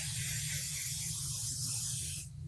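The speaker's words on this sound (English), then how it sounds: "Now I'm going to spray my batting," Basting spray hisses steadily from an aerosol can onto quilt batting, one continuous close burst that cuts off near the end.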